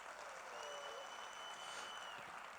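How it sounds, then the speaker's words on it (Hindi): An audience in the Mahatma Mandir auditorium hall applauds, giving a steady, even wash of clapping that sounds faint and distant and continues for the whole stretch. "एक जोरदार ताली हो जाए"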